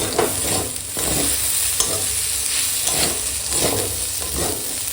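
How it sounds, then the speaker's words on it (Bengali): Onion greens and potato fry in hot oil tempered with dried red chilli and whole cumin, a steady close sizzle with periodic scraping stirs of a spatula through the pan. "পেঁয়াজ শাক আর আলুটা একসঙ্গে ভেজে নিচ্ছি শুকনো লঙ্কার ফোড়নে"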